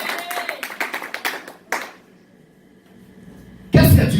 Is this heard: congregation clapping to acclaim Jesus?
yes